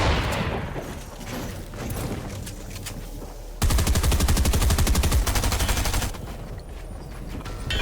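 Heavy sniper rifle shots ring out in a video game, with a dense, loud burst of rapid gunfire hammering away in the middle of the stretch, over a background of game noise.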